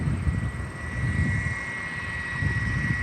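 Jet aircraft engines roaring steadily at Albany International Airport as a plane readies for takeoff, a constant broad rumble with a whining tone, heard from a distance under light wind.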